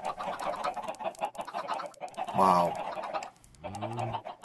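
Minecraft chickens cluck in a game, several short clucks and squawks close up and fairly loud, with a person talking over most of it and a louder burst near the middle.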